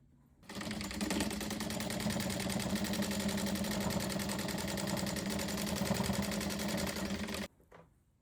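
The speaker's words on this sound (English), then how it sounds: "we're going to stitch down this first seam right there" A sewing machine runs steadily for about seven seconds, stitching down a bias tape seam on a big-pocket quilt coat, a loud, even mechanical whir that stops abruptly, with no talk.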